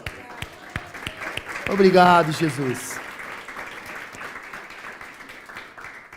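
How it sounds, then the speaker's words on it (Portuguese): Church congregation applauding, a short burst of clapping and cheering that swells briefly and fades under a preacher's amplified voice. "Vamos aplaudir ao Senhor?"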